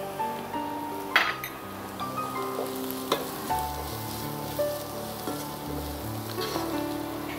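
Sliced onions sizzle steadily in hot oil in a pan for chicken biryani, a constant frying hiss under occasional clinks and scrapes of a spoon stirring against the metal.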